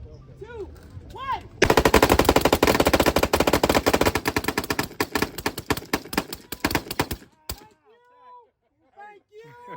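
Rapid bursts of automatic machine gun fire from switch-equipped Glock pistols rattle loud and close for about six seconds, with voices before and after.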